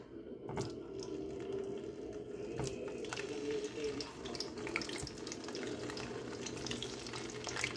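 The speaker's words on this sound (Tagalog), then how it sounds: "Isa-isa ko siyang ilalagay dahil baka talsikan ang mantika." Bananas fry in hot oil for Filipino banana cue, giving a soft, continuous sizzle with scattered small pops and crackles throughout.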